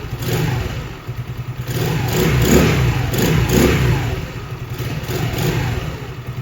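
An Icebear Champion minibike, a Honda CT70 clone, runs steadily with a loud, close, buzzing small-engine drone, its pitch swelling slightly with light throttle blips and never letting up.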